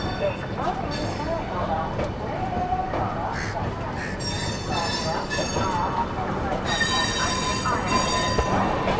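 LHB coaches of the Howrah–Kalka Netaji Express rolling toward the pit washing line, a steady rumble of wheels on rails with scattered squeals and clanks, continuous and fairly close.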